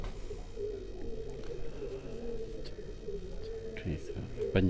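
Racing pigeons coo softly and repeatedly at a loft, a low steady murmur with a few sharper bird calls and thumps toward the end.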